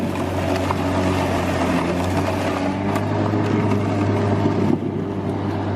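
A Sun Joe MJ401C 14-inch 28-volt cordless electric lawn mower runs with a steady low hum and whirring rush, close and constant throughout, with no talking.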